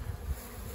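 Honeybee foragers buzz around hives during a midday oxalic acid treatment, a steady close insect drone with no talk.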